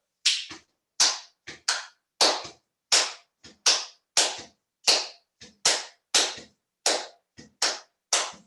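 Hands clap a syncopated rhythm pattern of the kind used in Brazilian and Cuban music, about twenty crisp, close claps in repeating groups with short gaps, alone with no talking.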